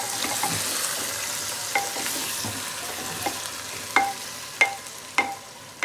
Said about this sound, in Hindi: अब इसी के साथ हमें ना अदरक लहसुन डाल के हम इसको भूनते हैं